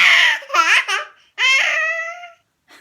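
A young child gives a playful imitation of a sheep's bleat in two bursts, a wavering baa-like cry followed by a longer drawn-out one, close and loud in a quiet room.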